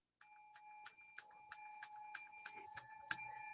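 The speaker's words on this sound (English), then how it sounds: "to have to hear the sound of this bell" A bright bell rings in a steady series of about nine evenly spaced strikes, each ringing briefly before the next, loud and close.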